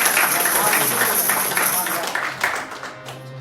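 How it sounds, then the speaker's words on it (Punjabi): At a church prayer meeting, a congregation claps in a rough rhythm for a couple, loud and close, with voices talking and singing over the clapping. "ਇਸ ਜੋੜੇ ਲਈ ਵੀ ਜੋਰਦਾਰ ਤਾਲੀਆਂ ਵਜਾਵਾਂਗੇ"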